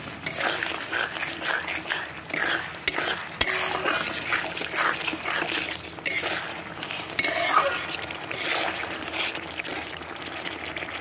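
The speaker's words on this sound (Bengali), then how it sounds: "মশলাগুলো ভালো করে কষিয়ে নেব।" Ground spices and chilli powder sautéing in oil in a pan for vegetarian ghugni, a steady close sizzle broken by scraping and stirring strokes throughout.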